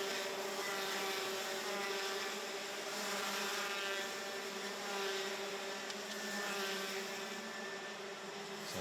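A pack of senior Rotax Max karts racing up a hill in a winter cup heat, their engines blending into a steady, continuous high-pitched drone with slight rises and falls in pitch.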